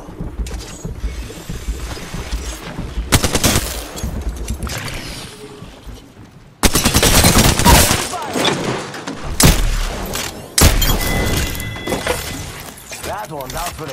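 Gunfire and explosions in the Apex Legends battle-royale game: dense bursts of shots, sharp impacts and booms at loud, close range, mixed with game effects, and a voice talking over the action.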